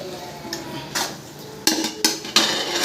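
Meat for chicken biryani being stirred in a pot, with a few sharp metallic clanks and scrapes of a utensil against the rim, close and loud, no voices.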